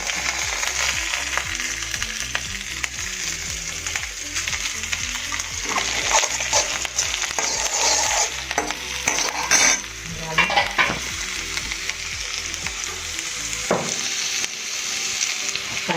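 Chopped green chillies and spring onions being stir-fried in a hot pan on high flame, a bright continuous sizzle with repeated scraping stirs of a spatula against the metal, close and loud.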